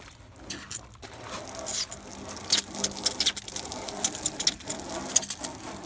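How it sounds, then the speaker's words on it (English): Water spraying and splashing over the dirty wheel of a 2007 GMC Sierra truck, a steady broadband hiss with patter and small fluctuations throughout, close and fairly loud, with no speech. "I'm just gonna wash this dirt off real quick."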